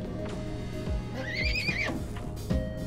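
Horse neighing in the space strategy game FTL: Multiverse: one clear, wavering whinny in the middle, over a busy background of low thumping game sounds and clopping, with no talking.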